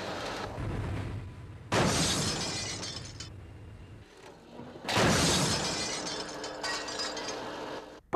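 A cartoon train smashes through a shed, with two loud bursts of shattering glass and crashing debris, each followed by a rumbling, decaying tail; no voices.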